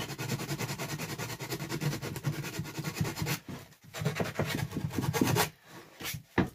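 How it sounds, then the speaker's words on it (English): Hand sanding a wooden dog paw print heart, a steady run of rapid rasping back-and-forth strokes that pause briefly, then resume in shorter bursts. "Sanding it, I mean."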